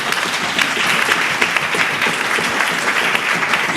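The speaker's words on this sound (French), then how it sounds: "Acclamons pour la parole de Dieu." A church congregation applauds in a dense, steady burst of clapping that fills the room for several seconds.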